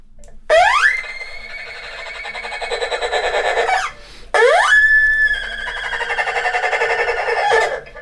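A bowed erhu imitates a horse's neigh twice: each phrase slides sharply upward, then holds a loud, wavering tone before cutting off.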